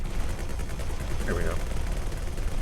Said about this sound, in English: Both sides firing.